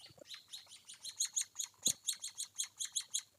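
An emprit kaji chick being hand-fed chirps in rapid, high-pitched begging bursts, a dozen or more close together and growing louder, with a faint flutter of wings.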